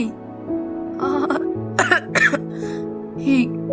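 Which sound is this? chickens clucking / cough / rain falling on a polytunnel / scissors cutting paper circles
cough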